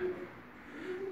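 A male homing pigeon coos softly nearby, a low warbling call repeated briefly against faint background hum.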